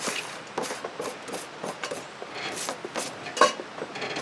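Cilantro being scraped off a cutting board into a bowl for pico de gallo in an RV kitchen, heard as a run of short, close scratchy strokes with a sharper knock near the end.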